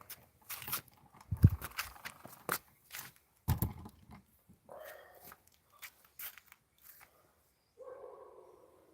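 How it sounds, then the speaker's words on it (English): A dog barks a few times at a distance, the short harmonic barks spaced apart among scattered knocks and rustling clatter nearby. "Stupid dog barking."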